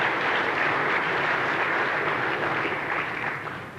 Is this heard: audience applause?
yes